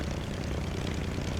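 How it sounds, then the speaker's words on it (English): Broadband propeller-engine drone of a Grumman F6F Hellcat in a flight simulator, steady and fairly loud throughout a brief stretch, with no voices. "Ooh, I hear a Hellcat."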